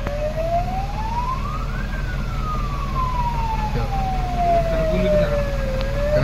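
A person's voice imitates an emergency siren in one long, wavering wail that climbs, falls slowly and starts rising again, over steady road and traffic rumble outdoors.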